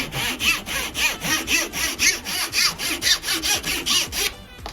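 A hand saw cuts through a small piece of wood in a steady rhythm of about a dozen quick, rasping back-and-forth strokes, close and loud, ending as the cut finishes.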